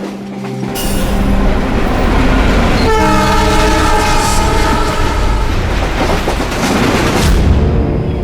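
A moving passenger train rumbles loudly and continuously, with clattering wheels and a sustained horn-like tone through the middle, all heard close from inside the train.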